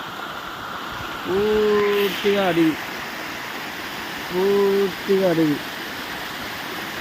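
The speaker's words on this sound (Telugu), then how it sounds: "వాటర్ ఫ్లో ఇలా వస్తుంది పైనుంచి" A hillside stream pours down through a forested village slope, a steady broadband rush running throughout, while someone speaks briefly in two short bursts over it.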